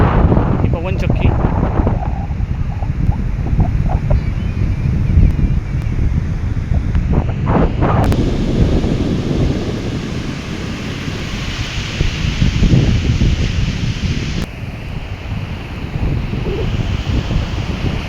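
Sea waves wash onto the beach at Kunkeshwar in Devgad, a steady surf roar mixed with wind buffeting the microphone, continuing under a voice talking for much of the stretch.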